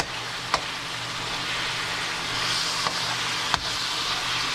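Ground meat for chili sizzles steadily in a frying pan while a utensil chops through it, landing a few sharp taps and scrapes against the pan.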